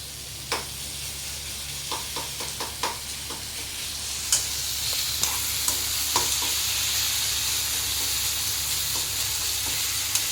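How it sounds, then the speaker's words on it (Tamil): Kothu parotta sizzles steadily as it fries in a pan at home, broken by a series of sharp metallic chopping and scraping clicks, clustered early and scattered later, with no voices. "நல்லா கொத்தி விட்டுட்டு ஃப்ரை ஆகட்டும்."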